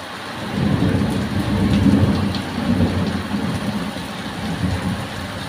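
Heavy afternoon rain pours down steadily with a loud, dense hiss and low rumbling swells, continuous and close, with no voices.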